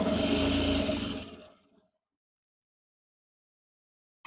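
Sewing machine stitching a seam on a unisex joggers trouser, running in a loud steady burst for about a second and a half, then stopping into silence, with a brief click at the end.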